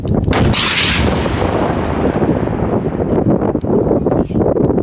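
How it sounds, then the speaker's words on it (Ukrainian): An RPG salvo fired from a combat robot: a loud blast erupts at once, followed by a rushing, rumbling roar and crackling wind noise that gradually fades. "Для потужнішої атаки боєць-оператор обирає залп РПГ. Постріл!"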